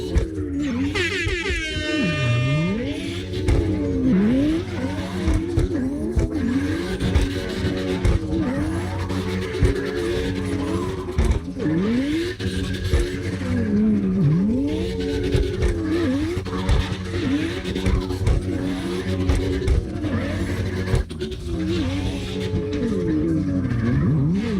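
Lexus LFA drifting in the CarX Drift Racing Online video game, a steady loud engine drone with rising and falling revs and sweeping pitch, continuous for the whole stretch, with a brief high squeal near the start.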